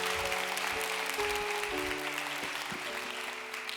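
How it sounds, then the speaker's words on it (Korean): Church congregation applauding for several people at the front, a steady wash of clapping from a room full of people, moderately distant and fairly quiet, holding throughout. "여기 있는 앞에 나온 7분을 위해서 박수 먼저 해주시죠."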